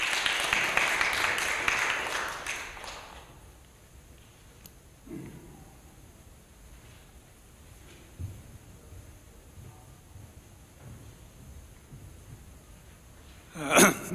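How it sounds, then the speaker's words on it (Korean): An audience at a pilgrimage-launch gathering in Seoul claps in a dense burst of applause for about three seconds, which then fades into a quiet room with faint rustling. "박수만 해주십시오."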